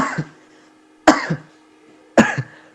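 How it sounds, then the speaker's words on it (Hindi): A person coughs three times, each a sharp, close burst followed by a softer second catch, evenly spaced about a second apart in an otherwise quiet room. "खांस लीजिए फिर बोलिए"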